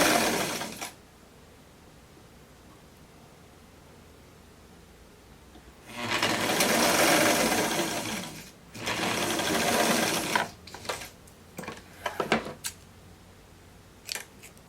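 A sewing machine stitches the facing of a flared dress in two long, steady runs, followed by several short bursts, with quiet pauses in between.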